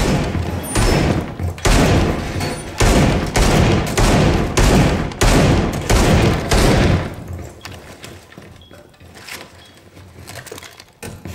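Breach charge blowing through a wall in Rainbow Six Siege, amid a run of loud, heavy thumping bursts in quick succession, then quieter rumbling and scattered impacts afterward.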